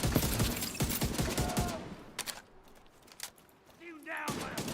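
Rapid bursts of automatic gunfire from The Division video game, loud and dense at first, then sparser scattered shots over quieter background, with a voice talking over parts of it.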